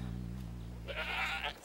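A baby goat near a ledge gives a short, close bleat: a low wavering cry, then a brighter, strained rise near the end.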